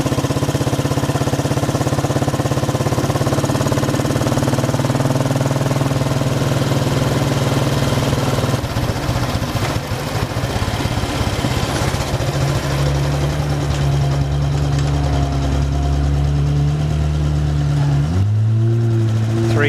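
A Royal Enfield motorcycle engine runs close by, a loud steady mid-pitched thrum that holds level, then shifts tone as revs change near the end, with no talk over it.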